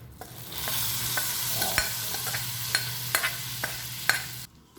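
Hot tempering poured into a buttermilk curry (moru curry), followed by close stirring with a spoon, giving sharp scraping clicks over a steady sizzling hiss that fades out at the end.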